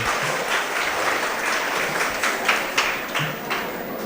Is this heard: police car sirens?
no